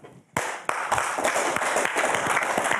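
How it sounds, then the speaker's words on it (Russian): Audience applause at a Border Guards Day evening concert in Gomel, starting abruptly and continuing as a dense, steady clapping from a crowd, loud and sustained without voices. "Это достойно аплодисментов."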